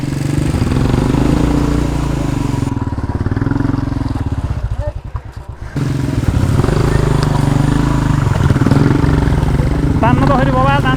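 A Royal Enfield Bullet motorcycle engine thumps loud and close while off-roading on a rough track in heavy rain, rising and dipping as it labors, and voices talk over the engine.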